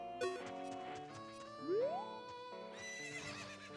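A horse neighs in the video game Zelda Ocarina of Time, a short, rising whinny heard over steady in-game music and soft hoof-like sounds.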